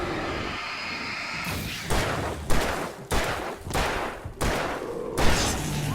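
Shotgun blasts from the video game Alan Wake, several heavy booming shots in an irregular sequence with loud rumbling tails, spaced about a second apart, with no talk over them.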